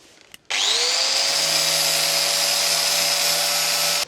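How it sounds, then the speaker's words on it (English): Power drill boring through mild steel strap in a workshop, a steady loud high-pitched whine that starts abruptly and holds constant, with a faint tonal hum beneath and no talking. "I'm going to drill them before welding"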